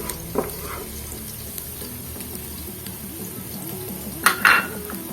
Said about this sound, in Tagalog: isayin lang natin yung bawang